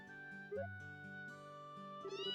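A cat meows in Trails in the Sky, a couple of soft tonal mews over a steady musical background, close and fairly quiet with no talk.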